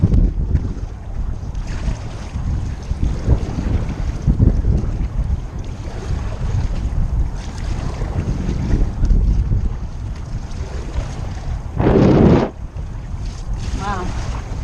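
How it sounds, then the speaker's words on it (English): Strong wind buffets the microphone on a fishing boat at sea, a loud continuous low roar with gusts and water slapping the hull, and a brief voice heard near the end. "Super windy today again."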